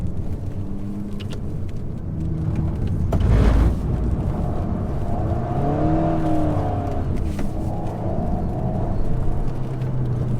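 An Alpine A110 sports car engine pulls in third gear on a manual-paddle drive, a loud close drone that rises and falls with throttle, with a surge of acceleration midway.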